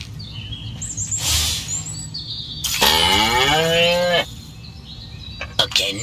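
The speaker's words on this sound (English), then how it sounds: "Again with the moo?" A cow in the Destroy All Humans remake video game lets out one long, loud, drawn-out moo in the middle, with bird chirps and ambient farm sounds around it.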